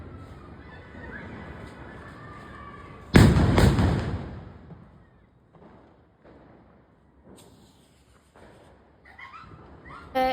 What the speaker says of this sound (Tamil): ஸோ எல்லா இடத்துலையுமே வெடிச்சுட்டு தான் இருக்காங்க